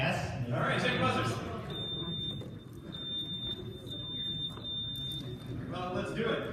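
A high, continuous electronic quiz-bowl buzzer tone sounds for several seconds during a buzzer check, steady and piercing, while people talk around it.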